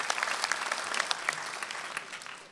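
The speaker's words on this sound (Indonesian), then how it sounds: "Tepuk tangan dulu untuk mereka dong, kasih apresiasi sebesar-besarnya." An audience at an Indonesian stand-up comedy competition claps in a lively burst of applause that fades gradually over a couple of seconds, with no voices over it.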